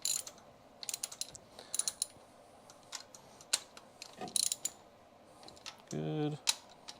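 Ratchet clicking in short bursts while bolts are snugged down on a 1956 Chevy long roof wagon in a shop, with quiet gaps, scattered metallic clinks and a brief low buzz near the end.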